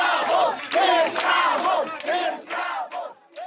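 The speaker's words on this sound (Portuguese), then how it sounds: "a histórica cena no Ceará, a vaia" A crowd in Ceará boos and jeers at arriving Cuban doctors, a loud mass of overlapping shouting voices with rising and falling jeers, close and continuous.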